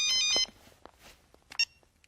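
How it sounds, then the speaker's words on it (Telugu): A telephone rings with a loud electronic ringtone in a short burst, followed by a second brief chirp a moment later. No one speaks during the ring. "ట్రావెల్స్ నుంచి ఫోన్"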